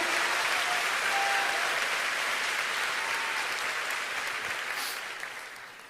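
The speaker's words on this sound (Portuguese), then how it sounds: "Aplauda mais forte o nosso Deus," A church congregation applauds loudly during an evening sermon, a dense, sustained wash of clapping that stays steady and then tapers off toward the end.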